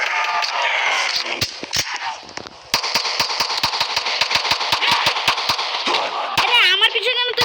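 Rapid automatic gunfire in a video game, fired in quick regular bursts, loud and close, with brief gaps and a whistling effect near the end.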